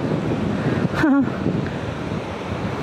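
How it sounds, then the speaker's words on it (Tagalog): Pacific Ocean surf washes onto the shore in a continuous roar, with a brief tonal voice-like sound rising over it midway. "Harap sa Pacific Ocean. Kaya medyo maalon-alon na talaga siya."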